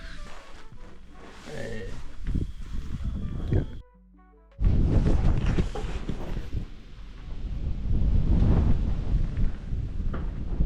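Strong wind buffets an exposed campsite in a roaring, gusty rush against the microphone, cut off briefly near the middle, with people talking over it.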